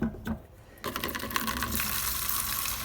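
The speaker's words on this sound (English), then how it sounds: "We need to fill our bucket half full." Water rushes from a tap into a bucket being filled halfway, a few brief knocks first, then a steady close gushing hiss that holds to the end.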